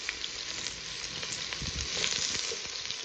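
Cooking oil poured into an already hot pan sizzles and crackles close by, a dense even hiss with small pops running the whole time and no speech.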